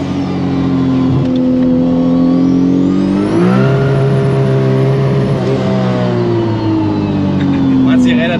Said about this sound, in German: So, also auf 2000 Drehungen, ich gebe jetzt Vollgas